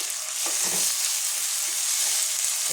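A ground paste of ginger, garlic, whole peppercorns and almonds frying in oil for a Bengali mutton curry: a bright, even, close hiss that holds steady throughout, with a few soft stirring sounds early on.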